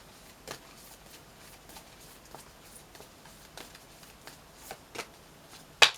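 Tarot spell cards shuffled for a full-moon Aquarius reading, with quiet riffling and a series of soft separate card taps and flicks, ending in a sharper close slap.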